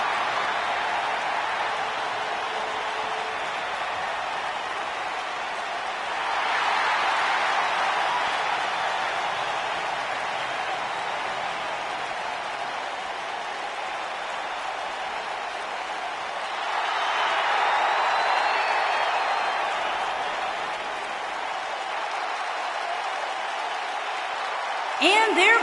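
Arena crowd in WWE 2K19 cheering steadily through the whole stretch, swelling louder twice in broad waves, with a commentator's voice talking over the roar.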